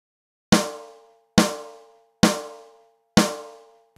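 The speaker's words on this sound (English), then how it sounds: "See if you can count how many drum beats you hear." Four separate drum hits, evenly spaced, each a sharp strike that rings out and fades before the next. Nothing else is heard.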